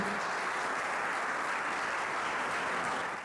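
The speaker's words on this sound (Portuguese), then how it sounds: "Você pode aplaudir o Senhor por isso?" A church congregation claps together in a steady, dense wash of applause at a moderate distance, holding evenly before tapering slightly at the end.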